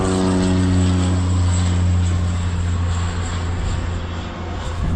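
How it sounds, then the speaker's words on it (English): A propeller airplane passes overhead, its engine drone loud and close with a steady harmonic hum that slowly fades a little toward the end. "It's an airplane."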